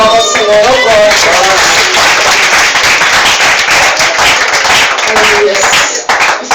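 A church congregation clapping their hands together, dense and loud, in a fast steady rhythm, with voices mixed in throughout.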